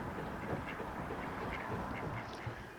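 A flock of ducks quacks continuously at a canal-side spot seen from a narrowboat, many overlapping calls forming a busy, fairly faint chatter with no voices.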